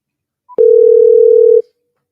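A telephone dial tone sounds while calling someone back: a short blip, then one steady, loud, unbroken tone lasting about a second before cutting off into silence.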